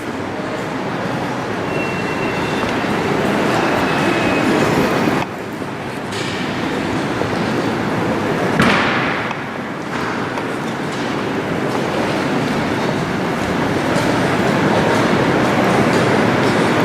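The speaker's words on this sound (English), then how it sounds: "this is not our train here. It's coming in from Birmingham" Train arriving from Birmingham at Northampton station, a loud steady rumble and rush of a passing train with a brief dip and a swell of noise midway, continuous throughout.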